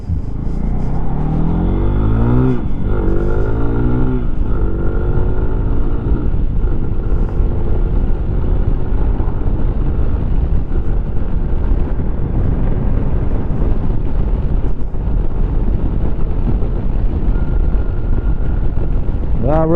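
A Lifan KPX 250 motorcycle with an air/fuel modification is ridden, its engine droning loud and steady under heavy wind buffeting, with rising and falling pitch sweeps as it shifts and accelerates.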